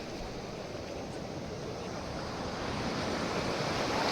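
Waves wash steadily onto the sand at Tilmati Beach in Karnataka, a continuous broad roar of surf mixed with wind noise that swells slightly toward the end, with no voices.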